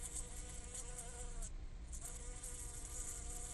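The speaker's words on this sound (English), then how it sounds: "it's one of those bees that's set to die, because it's not go didn't go back to the hive" A dying honeybee buzzing around a light, a close steady whining drone that dips briefly midway before resuming, faint overall.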